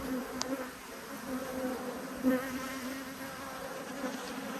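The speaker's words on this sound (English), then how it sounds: "there are literally hundreds of bees making their journey into this hive with pollen and obviously nectar" Hundreds of honey bees fly into an autumn hive carrying pollen and nectar, a steady dense buzzing hum that holds throughout, with a few louder passes close by.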